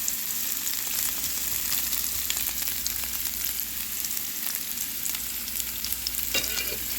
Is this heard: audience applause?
no